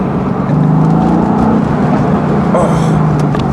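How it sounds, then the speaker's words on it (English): Mercedes AMG GT S on a downshift, its exhaust giving a loud, close engine rumble with a burst of crackle and pop partway through. "Every downshift as well, as long as you get it right, you get a nice backfire, nice crackle and pop"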